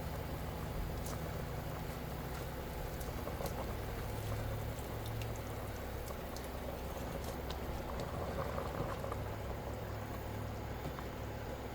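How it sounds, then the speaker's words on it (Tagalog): Steady bubbling and hissing of chicken broth boiling in a pot, a continuous low churn with faint clinks, no voices. "Kumukulo na po."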